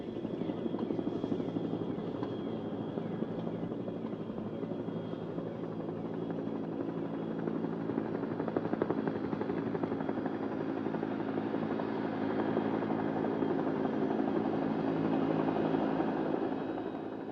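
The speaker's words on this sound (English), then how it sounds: "the helicopters are on their way to resupply the forts" Military helicopters flying over jungle to resupply forts during the 1960s Indonesia Confrontation, a steady, loud rotor and engine drone that holds constant throughout with no talk.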